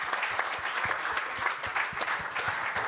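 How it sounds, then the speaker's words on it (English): Audience at a Moonraker 1978 film panel claps steadily, a dense continuous round of applause from a crowd that holds at an even level throughout with no speech over it. "I think that deserves a round of applause, that sequence, doesn't it?"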